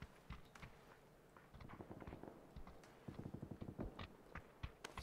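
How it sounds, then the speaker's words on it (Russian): Footsteps in PUBG, heard as a run of quiet, quick thudding steps close by, growing slightly louder and faster toward the end, with no talk. "Не, я слышу шаги рядышком."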